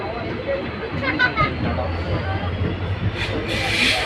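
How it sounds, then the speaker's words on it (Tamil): A train rumbles past steadily on the way to Thenmalai, a low continuous rolling under people talking nearby. "ஃப்ரெண்ட்ஸ், ட்ரெயின் அடிச்சு போயிட்டு இருக்கு."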